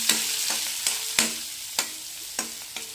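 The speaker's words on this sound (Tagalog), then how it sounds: "Gisa-gisa lang po yan. Hanggang sa maluto yung bawang, sibuyas at kamatis." Garlic, onion and tomato sautéing in a pan for adobong kangkong: sharp spatula strikes against the metal at irregular intervals, about eight in three seconds, over a bright steady sizzle, close by.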